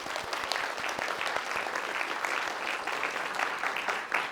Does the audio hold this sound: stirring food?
no